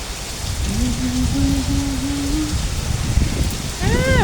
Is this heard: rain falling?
yes